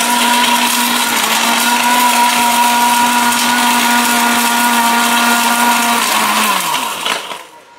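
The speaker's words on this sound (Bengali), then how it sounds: "এত heavy duty Blender, still বুশের Blender" A heavy-duty steel bush blender grinds hard brick to powder with a loud, continuous, high-pitched motor whine and gritty rattle, holding steady for several seconds before spinning down at the end.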